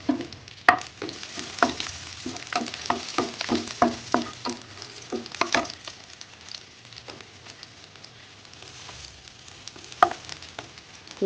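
Black cumin seeds, garlic and dried red chilies frying in mustard oil, a lively crackling sizzle with rapid popping and spoon stirring, loud and close, easing to a softer hiss toward the end.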